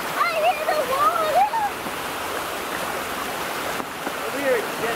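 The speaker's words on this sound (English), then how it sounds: "I hear the water." A flowing stream rushes steadily at moderate distance, a continuous watery hiss with faint chirping above it, while people talk quietly nearby.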